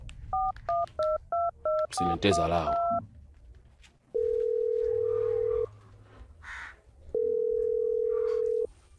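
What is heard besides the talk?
telephone being dialed, dial tone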